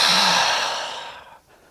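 A slow, deep inhale in a yoga flow, moving from triangle pose up into warrior two: one steady breath that is close and fairly loud at first, then fades away over about a second and a half, with no voice over it.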